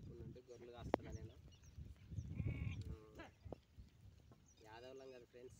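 Sheep in a shepherd's flock bleat several times, with harmonic calls near the middle and end standing out clearly over ongoing talk and farmyard background.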